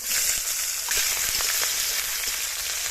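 Bay leaf, dried red chilli, whole cumin, chopped garlic and green chilli sizzle hard in hot mustard oil, a loud, close, continuous hiss with small crackles and pops, nobody speaking.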